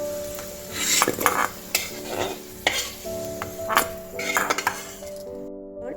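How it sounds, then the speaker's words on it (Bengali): Potato pieces coated in turmeric fry in oil, crackling and sizzling steadily while a spatula scrapes and clinks against the pan in irregular bursts, close and clear, then quieting at the end. "আলুটা একটু হলুদ গুঁড়ো দিয়ে ভেজে নেব"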